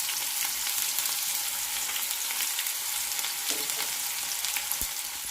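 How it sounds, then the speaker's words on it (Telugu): Onions and curry leaves fry in hot oil, giving a dense, even sizzle that stays close and steady throughout, with occasional soft crackles. "కరివేపాకు వేసాను. ఇప్పుడు ఈ ఉల్లిపాయలు కూడా వేసేస్తున్నాను."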